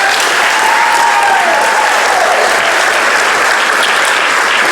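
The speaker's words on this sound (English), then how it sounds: "I think you ought to give yourselves a big round of applause" Loud, sustained applause from a large audience at a state FFA convention session, dense clapping that holds steady at full strength throughout.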